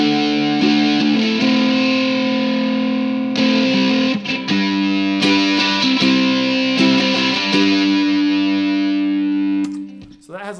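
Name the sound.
ukulele played through an overdrive effects pedal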